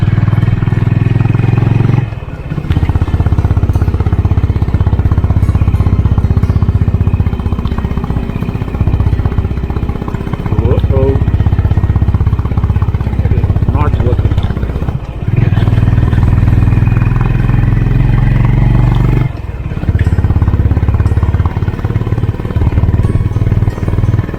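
A Honda CB350 H'ness motorcycle lugs uphill at low RPM with a loud, close, deep engine rumble and wind noise that runs steadily, dipping briefly a few times as the throttle eases.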